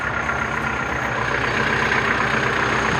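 A Mitsubishi Strada 2.8 pickup's diesel engine idles steadily up close, a continuous low rumble with a rattly clatter and no pauses.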